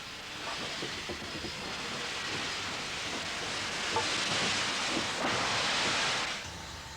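Stanier Black 5 steam locomotive George Stephenson runs on British rails, a steady broad hiss and rolling rumble at moderate distance that swells slightly toward the end, with no voices.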